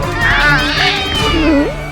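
A cat meows with a rising, wavering cry in the middle of a tense courtroom drama scene, close and fairly loud, partly overlapping people talking.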